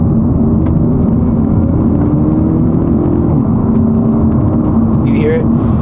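A Hyundai Elantra N fitted with a titanium mid-pipe idles in eco mode with the windows up, giving a steady, quiet, low engine drone that holds evenly throughout.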